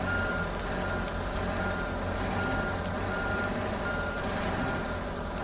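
Steady electronic reversing beeps from a truck in the Snowrunner game's Ontario map, pulsing continuously at a fixed pitch over a constant engine rumble, loud and close, with no talking.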